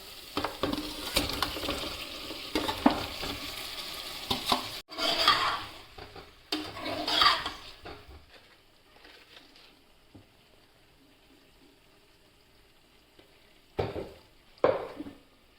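Potatoes and onions stirred in a pan for a potato curry in a home kitchen, with scraping and clattering of a utensil against the pan over a soft sizzle, fading to near quiet before a few last stirs.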